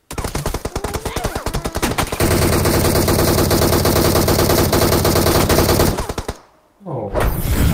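Video game gunfire rattles in rapid automatic bursts, loud and close, the fast machine-gun stream running almost continuously before dropping out briefly and kicking back in.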